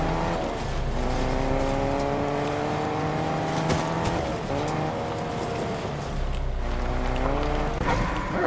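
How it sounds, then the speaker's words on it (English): A car driven in the video game Fortnite, its engine droning steadily with harmonic pitch rising and falling as it accelerates, loud and continuous throughout with no talk. "I'm actually going to get in my car and drive it."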